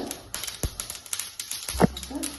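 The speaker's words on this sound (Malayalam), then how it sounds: "കടുക് പൊട്ടുന്നുണ്ട്" Mustard seeds pop in rapid, irregular crackles, sizzling in hot oil, close and fairly loud, with a brief louder spatter near the end.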